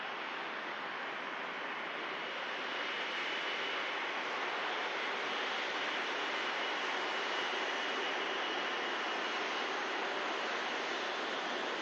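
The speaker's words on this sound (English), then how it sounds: "Here is the Virgin Atlantic." A Virgin Atlantic airliner at Manchester Airport in winter, its engines producing a steady, moderately distant roar that holds even and sustained for the whole stretch, with no voices.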